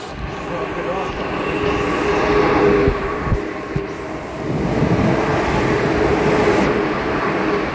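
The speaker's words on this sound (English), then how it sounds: "First Thames train that came past." A Thames train rolls past at New Cross, a loud, steady rumble and rushing roar that swells mid-way and holds to the end, with a couple of sharp clanks from the wheels.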